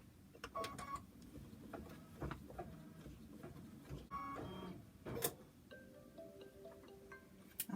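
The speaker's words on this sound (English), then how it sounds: "I'm going to go ahead and stitch the final tack down of the nose." Embroidery machine stitching a final tack-down on a stuffed bear's nose, a quiet mechanical whir with irregular clicks and ticks of the needle and hoop, close and faint with no voices.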